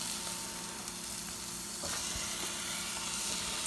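Chopped tomatoes sizzle steadily in hot masala for a quick fish curry, a loud, even frying hiss running throughout with a few soft stirring knocks partway through.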